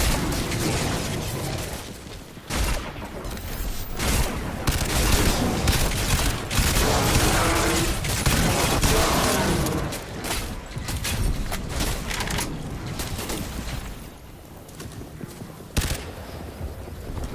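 Dense, continuous gunfire from the shooter game Crysis 3 Remastered, with bursts and explosions layered over one another at a steady high level throughout, with only brief dips.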